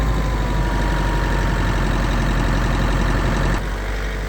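Small John Deere-style LX4020 lawn tractor engine running steadily and close up, a loud continuous drone that drops slightly in level near the end, heard outdoors in cold, rainy weather.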